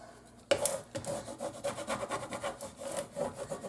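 Vinyl transfer tape is rubbed firmly against a flat surface for a coffee tray craft, giving a quiet, close, rhythmic scraping in short repeated strokes after an initial sharp contact.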